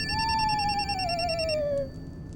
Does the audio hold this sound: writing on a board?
no